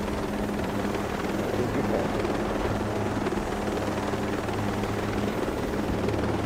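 Helicopter in the video game Ghost Recon Breakpoint, a loud, steady rotor and engine drone that fills the whole stretch without letup, with a brief spoken phrase over it.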